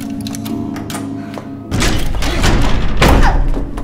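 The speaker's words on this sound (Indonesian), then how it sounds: "tetap berusaha membuka pintu besi itu, tapi percuma" Heavy iron door of a locked, soundproof room being forced, with loud repeated thuds and bangs after a quieter start, close and alone with no talk.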